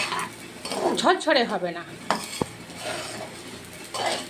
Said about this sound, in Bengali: সেই জল ঝরানোর চালটাকে দিয়ে এবার সুন্দর করে নাড়াচাড়া করব